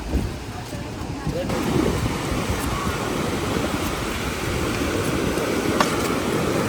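Water roars steadily in a broad, continuous rush from the Iranaimadu reservoir spillway in Kilinochchi, with some wind buffeting the microphone throughout.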